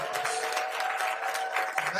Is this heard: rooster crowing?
no